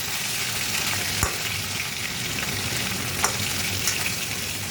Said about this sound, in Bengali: চলো আমি মাছ ভাজছি দেখে দিই